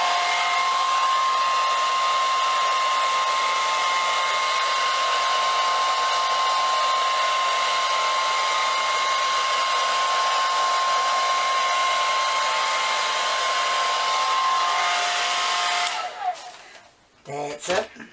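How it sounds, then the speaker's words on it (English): A hair dryer blows continuously at close range with a steady whine and whoosh, then cuts off near the end, leaving a few handling noises. "I'm just going to take the end off my dryer now"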